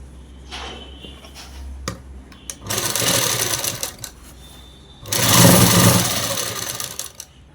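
A sewing machine stitches the sleeves onto a child's frock, running in two sustained bursts of fast, even whirring, loud and close, with quiet pauses between them.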